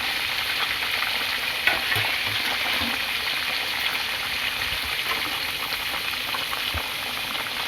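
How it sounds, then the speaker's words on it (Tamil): A pot of okra curry bubbling and sizzling steadily on the stove, a constant hiss with small pops scattered throughout, no voices. "நல்லா கொதிக்குது பாருங்கள்."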